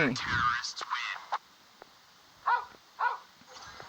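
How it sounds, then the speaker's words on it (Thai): A dog barking and howling in a commando-style combat video game, heard as a few short yelping bursts at the start and again near the end, separated by quieter gaps. "หมา ก็เห่าก็ หอนเหลือเกิน"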